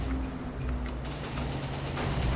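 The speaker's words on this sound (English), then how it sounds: "Another volley of missiles," In a tank video game, a volley of missiles fires as a dense, continuous crackling barrage of overlapping blasts, steady and moderately loud for a couple of seconds.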